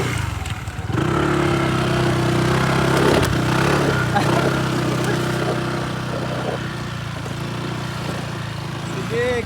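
A motorcycle engine runs steadily near a small river crossing below Maples River in Pangasinan, a low continuous drone that holds for the whole stretch with voices talking over it.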